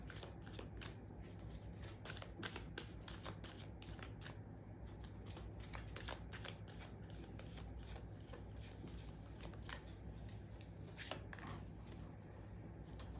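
Tarot cards being shuffled and drawn from a deck, a steady soft papery riffling and shuffling that runs continuously and quietly throughout with no talking.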